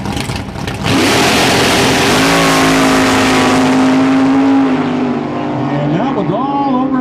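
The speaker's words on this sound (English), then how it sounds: "These two are, how shall I say, very quick automobiles." Drag race cars launching off the start line at a drag strip, a loud close engine roar that climbs steadily in pitch as they accelerate away, with a second engine rising near the end.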